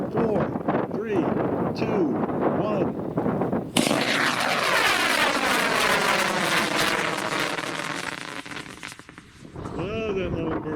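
A 54mm Stealth model rocket lifting off on a J145 Sparky motor, a sudden loud roaring burn that sweeps as it climbs away and fades, with people talking and wind buffeting the microphone before and after.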